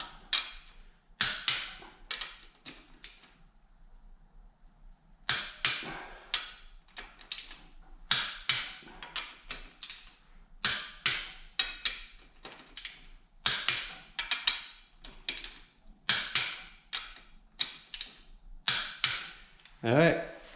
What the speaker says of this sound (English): I'm gonna bring it to 20 with my torque wrench, and then I'm gonna bring it up to 40